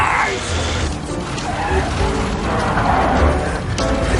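Car gears grinding while shifting, a steady rough mechanical rasp and rattle that runs throughout, mixed with engine drone and scattered voices.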